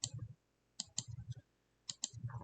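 Computer mouse clicks while using the flood fill tool in Affinity Designer, a few faint, close, crisp clicks in small pairs and single taps set apart by quiet gaps.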